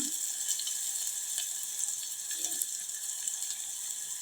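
Vegetables frying in a pan for a home-cooked dish, a steady soft sizzling hiss that fills the whole stretch, with no one talking.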